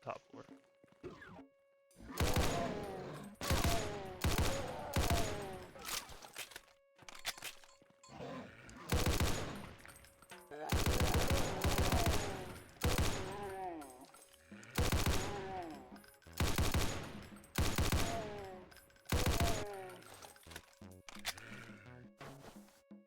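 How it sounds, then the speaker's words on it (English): Repeated loud gunfire bursts, shotgun blasts in a first-person video game, fire in rapid clusters throughout, with music and effects around them and a voice talking in between. "Shotgun sounds like it can blow a hole through a nuclear silo."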